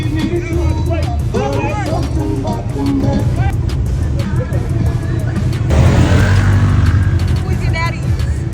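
Ford Mustang engine running at Roxboro Motorsports Park drag strip, a loud continuous low rumble that swells around the middle, mixed with crowd babble and voices throughout.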